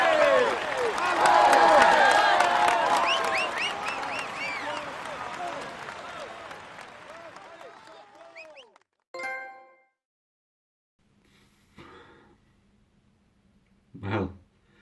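Crowd applause and cheering in a Tour de France cycling video game, a dense wash of clapping that swells then fades over several seconds, followed by a few isolated chimes and short bursts near silence.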